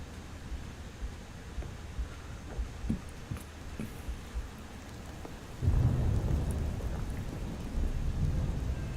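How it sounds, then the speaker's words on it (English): Rain falls steadily with rumbling thunder in a game's outdoor scene, a dense hiss of raindrops throughout with a low roll of thunder swelling loud partway through and lingering. "It's rainy out here."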